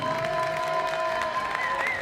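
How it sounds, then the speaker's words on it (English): Crowd applause for seniors and their families at a high school varsity ice hockey game, steady moderate clapping in a large rink with a tonal ring or whistle-like sound over it. "Let's have a big round of applause for all of our seniors and members of their families"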